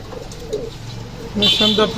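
Pigeons sold as a running pair coo softly in a loft, low repeated calls heard under a man's speech that grows louder near the end.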